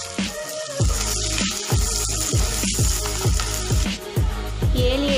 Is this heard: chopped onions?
yes